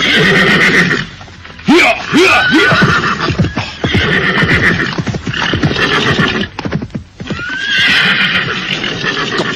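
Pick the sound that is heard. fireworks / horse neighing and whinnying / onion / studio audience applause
horse neighing and whinnying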